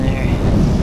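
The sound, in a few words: strong cold wind while cycling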